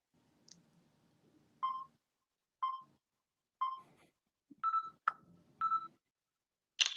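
A phone gives about six short, clear electronic beeps at uneven intervals roughly a second apart, sharp and close over a quiet background with a faint low hum early on.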